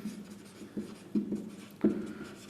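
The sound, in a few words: writing on a board during a maths lesson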